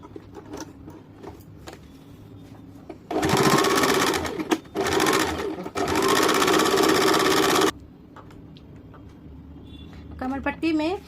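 A sewing machine stitches along a salwar waistband in two loud, steady runs with a brief pause between, while someone talks quietly before and after.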